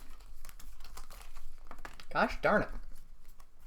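Cards from the Final Girl board game are shuffled by hand in short rapid riffles, close and crisp, with someone speaking briefly over them.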